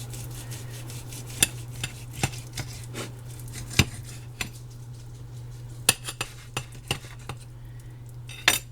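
A knife trims a thick hunk of raw beef being readied for canning, giving sharp, irregular ticks and scrapes against a board over a constant low hum, close and fairly clear, with no talking.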